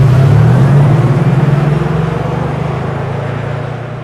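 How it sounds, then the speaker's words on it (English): An artificial driving sound from the all-electric Mercedes G580 EQ G-Class: a loud, steady synthetic hum that starts strong and slowly fades over a few seconds. "the very emotional G-Class specific driving sound for this all-electric model"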